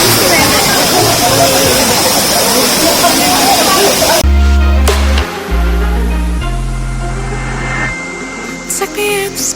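Jhor waterfall in Kathmandu, with dense rushing water roaring loud and close for about four seconds before it cuts to music with a steady beat.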